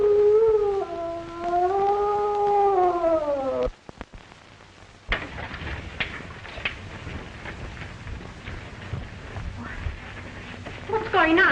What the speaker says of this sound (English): Heard a terrible moan from Mr. Harrison's room.